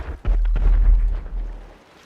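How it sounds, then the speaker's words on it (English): A sticky bomb explosion in GTA 5 booms heavily, with a couple of sharp blasts up front rolling into a long rumbling decay that fades out. "The explosive sound of sticky bombs is apparently a lot louder than you might think."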